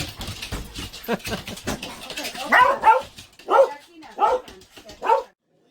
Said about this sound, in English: The dogs are excited to see us.